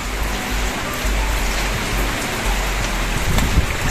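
Rain falls steadily and densely near chicken coop construction, a constant loud patter with low rumbling wind or drumming underneath and no speech.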